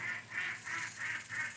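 Canada geese honk in five evenly spaced, fairly faint calls against a soft background hum.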